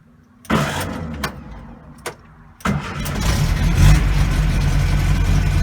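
A 1966 VW Baja Bug with its muffler removed cranks in a few short bursts, then catches and settles into a loud, raw, steady idle, close up with no talking.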